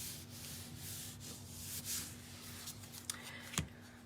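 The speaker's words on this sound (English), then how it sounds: "I'm going to turn it over and I'm going to rub really good, especially where that embossing is" Cardstock rubbed firmly by hand to set adhesive on an embossed card panel, a soft continuous scuffing and sanding friction with a faint steady hum beneath and a sharp tap near the end.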